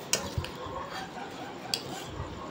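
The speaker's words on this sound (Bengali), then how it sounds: "এর সঙ্গে অ্যাড করে আবারও চামচ দিয়ে ভালো করে মাখিয়ে নেব" A spoon mixes jamun fruit with lemon leaves in a bowl, giving faint scattered clinks and soft scraping against the bowl, with a few brighter taps standing out over a quiet background.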